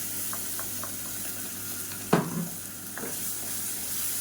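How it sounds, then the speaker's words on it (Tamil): Blended tomato sautéing in oil in a pan for a black chana masala kulambu: a soft, steady sizzle with one sharper spoon scrape and a few light taps, fairly quiet and close, with no speech. "இப்போ தக்காளி நல்லா வதங்கிட்டு இருக்கு"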